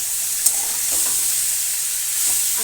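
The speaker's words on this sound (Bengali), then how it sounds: "তো এদিকে আমার তরকারি ভাজা চলছে।" Young jackfruit curry frying in a pan, with a continuous close sizzle and a couple of light stirring knocks, including a small clack near the start.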